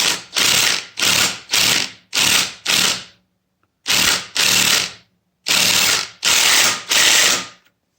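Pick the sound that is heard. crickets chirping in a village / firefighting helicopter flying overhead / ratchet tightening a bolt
ratchet tightening a bolt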